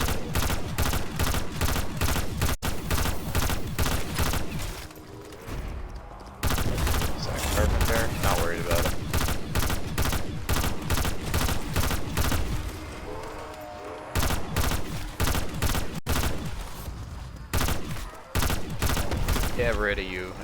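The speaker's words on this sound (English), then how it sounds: "we're just gonna just use the M16 until I can get this stupid thing done" M16 rifle fire in a video game: long, loud bursts of rapid automatic shots in a steady rhythm, broken by short pauses, with a voice talking over parts of it.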